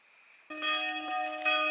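A church bell rings in a magical outdoor spot by the sea at sunset, a sustained ringing tone that swells in after a quiet start and hums on, moderately loud and unaccompanied by talk.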